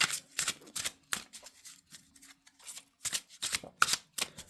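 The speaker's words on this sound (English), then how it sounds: "we're going to give this a little tiny shuffle" Tarot cards from a Rider-Waite-Smith deck shuffled by hand in a quiet room, a string of soft riffling and slapping bursts in two clusters with a short pause between, close and fairly quiet, with no talking.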